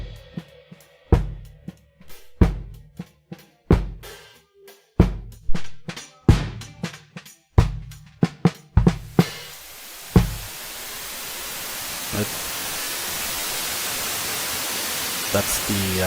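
Hard drum hits give way to a loud, steady, hiss-like broadband roar from a free VST distortion plugin, which fills the rest of the clip.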